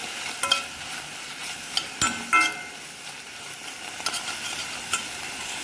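Spicy chili paste stir-fried in a pan for Turkish bamya, an okra stew, sizzling softly under a few sharp scrapes and clinks of a utensil against the pan.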